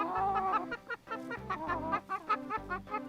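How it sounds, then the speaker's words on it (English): Fluffy designer chickens in a backyard coop cluck in a close, busy run of short, rhythmic calls, several birds overlapping with no pauses. "see the fluffy designer chickens"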